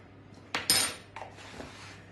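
A metal teaspoon scoops and clinks against a bowl or container while two teaspoons of baking powder are measured, a couple of short, close scraping clinks in quiet surroundings.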